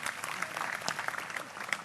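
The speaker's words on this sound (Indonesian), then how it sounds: "Tepuk tangan untuk kelompok pertama." An audience at a public gathering applauds the first group, a dense patter of many hands clapping at moderate volume, with some voices underneath.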